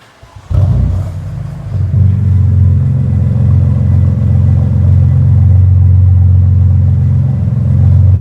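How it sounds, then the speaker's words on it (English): A deep, throaty BMW M3 exhaust starts up and holds a steady, loud rumbling idle with slight revving, close by, with no talking. "I'll make you guys hear an exhaust clip right now."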